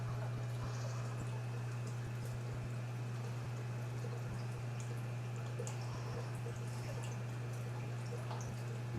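Water runs into a 55-gallon drum as a steady, low, continuous pour and trickle, with a constant hum underneath, fairly quiet and unbroken throughout.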